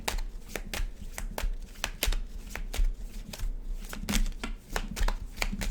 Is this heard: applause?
no